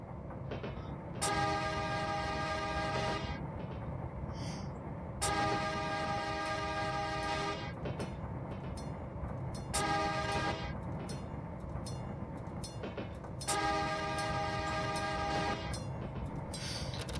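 The horn of a Sacramento Northern SN 1003 interurban car in Train Simulator sounds in four loud, multi-toned blasts of about two to three seconds each, over a steady rumble of the moving train.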